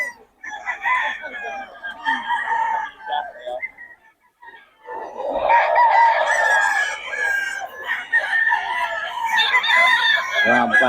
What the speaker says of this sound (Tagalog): Mga manok ni Boss Ray.